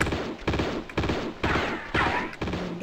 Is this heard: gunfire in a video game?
yes